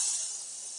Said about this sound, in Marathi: एक एक करून थोड्याशा तेलामध्ये मिरच्या आपल्याला फ्राय करून घ्यायच्या आहेत